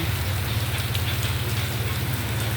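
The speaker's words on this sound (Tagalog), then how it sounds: "hindi masyadong malakas ang ulan, tsaka hangin" Steady typhoon rain patters on a surface close by, with a rhythmic low thrumming beneath it and no voices.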